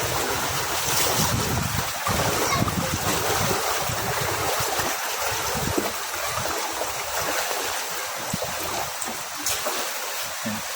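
Steady rushing water fills the scene, a broad continuous wash like a river flowing close by, with no voices, during Typhoon Enteng in Burdeos, Quezon.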